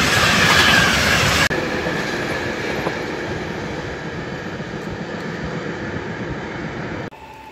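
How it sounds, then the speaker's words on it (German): A freight train rolls steadily past at close range, wheels rumbling and clattering over the rails in a continuous roar, with a sharp shift partway through. "alle Facetten von Zuggenerationen und Typen wie ein Güterzug"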